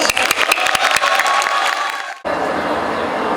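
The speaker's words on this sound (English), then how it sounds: "Let's welcome them with a huge round of applause." Audience applause welcoming the Nirvana Indian Dance Society of MAIMS at an International Women's Day event, a dense wash of clapping and crowd noise that cuts off sharply partway, then gives way to a steadier background hum.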